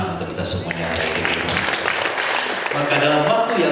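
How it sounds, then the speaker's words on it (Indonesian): Audience applause in a campus hall during a motivational event, clapping that swells to a fairly loud, full patter with some speech-like sounds mixed in. "Tepuk tangan untuk kita semuanya."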